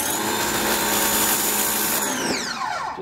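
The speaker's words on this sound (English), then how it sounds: "pump, and you can hear it lose its prime." Ryobi 1600psi electric pressure washer running with a turbo nozzle, its pump losing prime: a loud steady motor whine that wavers and shifts pitch near the end as the pump falters.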